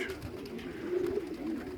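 Pigeons coo in low, soft rolling calls, a continuous murmur close by with no voices.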